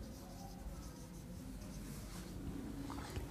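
A teacher writing on the board during a precis-writing lesson: faint, continuous scratching strokes at a low level with no clear breaks, heard at a slight distance.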